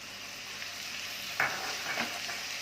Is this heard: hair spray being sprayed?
no